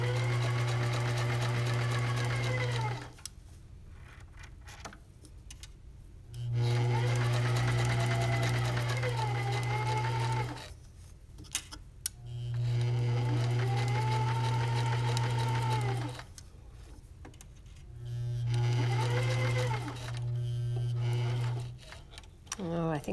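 A sewing machine stitches a pocket together in four long humming runs of rapid needle strokes, separated by pauses while fabric is repositioned; a person talks between and over the runs.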